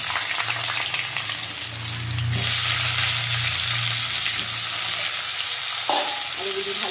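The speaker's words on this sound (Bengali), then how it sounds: "আলুগুলি ভালো করে ভেজে দেবো।" Potatoes fry in hot oil in a pan, a continuous loud sizzle with stirring, the crackle swelling midway and holding steady without speech.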